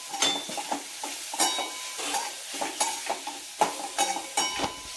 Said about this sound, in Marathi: थोडीशी हळद टाकते, तेलामध्ये परतून घ्यायची आणि थोडासा हिंग